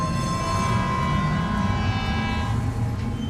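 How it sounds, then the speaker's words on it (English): A monorail train in the video game Death Stranding 2 rumbles steadily, with a sustained tonal whine or horn-like hum running over the continuous low mechanical drone. "Monorail. Monorail. Monorail."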